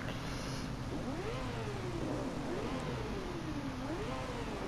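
Sport motorbike engine in the racing game Ride 2 on a Spanish track, revving up and down in repeated rising and falling sweeps, steady and loud throughout with no talk over it.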